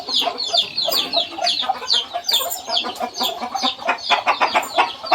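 Fighting cocks kept at a small Thai farm cluck and call continuously, several birds close by with busy, overlapping rhythmic clucks and occasional louder squawks, no talk over them.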